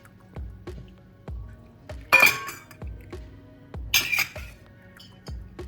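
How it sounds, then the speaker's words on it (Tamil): Homemade country chicken soup with cumin is ladled into dishes, producing soft clinks and clatters of crockery and utensils in a few spaced bursts over a faint low hum. "இப்போ அவங்க டேடிக்கும் அவளுக்கும் நான் ஊற்றி கொடுக்க போகிறேன், தேஷ்னாக்கும்."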